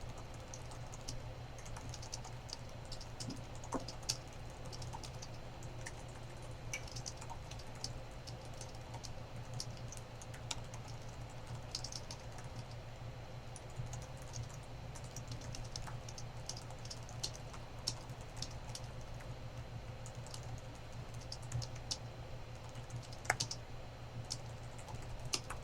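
Steady typing on a computer keyboard runs throughout, soft rapid key clicks with occasional sharper taps, close and alone without talk during a live coding stream.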